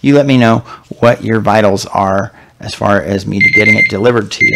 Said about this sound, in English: That's my alarm telling me it's 5 o'clock.